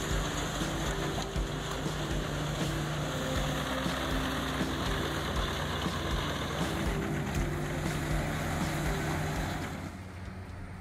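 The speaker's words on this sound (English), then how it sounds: "This beast of a machine easily turns wood into valuable scraps, helping to protect the forestry environment." A wood chipper powered by a Caterpillar engine chews through wood, giving a loud, steady mechanical drone with harsh grinding that holds for about ten seconds, then eases slightly at the end.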